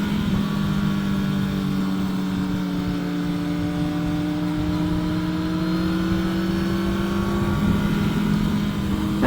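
A 2024 Kawasaki Ninja ZX10R sport motorcycle ridden along a mountain road, its engine droning steadily at a fairly constant pitch with slight rises, wind noise underneath, no talk.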